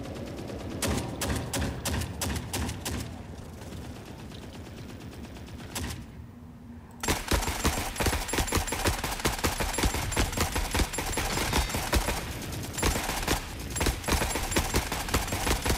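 Loud, dense automatic gunfire from The Forever Winter shooter game, rapid bursts of shots cracking in quick succession, pausing briefly, then resuming even louder and more continuous for the rest of the stretch.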